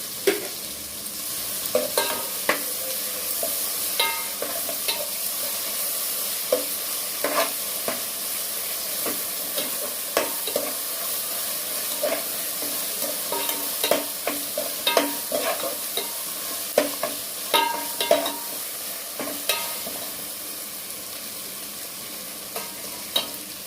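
A cumin, ginger, garlic and poppy seed paste fries in hot oil for vegetable biryani, a steady sizzle broken by frequent clinks and scrapes of stirring, close and fairly loud with no talk.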